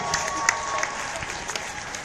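A tour audience in St Andrews gives a short burst of applause and cheering, a brief patter of claps at moderate volume with a few sharper hand strikes standing out.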